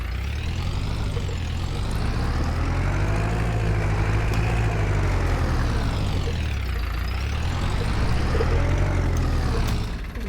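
A farm tractor engine starting and running, a loud, steady diesel drone whose pitch swells and dips as the throttle is worked, close by and continuous throughout with no talk over it.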